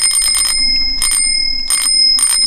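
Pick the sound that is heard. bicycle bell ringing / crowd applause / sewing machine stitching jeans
bicycle bell ringing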